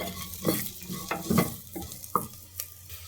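Onions and almonds frying in oil as tomato is stirred into the pan, steady sizzle beneath repeated spatula scrapes and knocks at an uneven rhythm, close and fairly loud.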